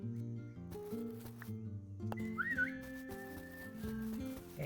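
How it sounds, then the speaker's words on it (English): A short whistle to call a dog in the video game Dinkum rises and wavers once over steady background game music, fairly clear but not loud. "I don't know how often I have to whistle, but it seems to work out better if I do it every so often."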